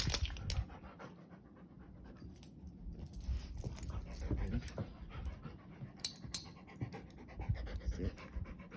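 A Siberian husky panting in quick, steady breaths close by, with faint whimpering and small yips mixed in and no speech over it.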